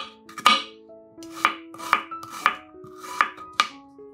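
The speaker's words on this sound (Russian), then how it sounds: "Одну луковицу нарезаем небольшими кубиками." A knife chops an onion into small cubes on a board, giving about eight sharp, close chops in an uneven rhythm, with no talk.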